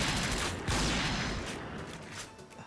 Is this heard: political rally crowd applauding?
no